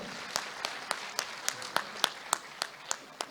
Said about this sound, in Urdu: زندہ باد، بھرپور تالیاں